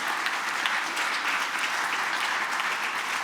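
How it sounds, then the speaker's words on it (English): Steady, dense audience applause fills a festive gathering of a nursing and midwifery faculty, loud and continuous throughout with no pauses or talking over it. "so a big round of applause to Paul ahead."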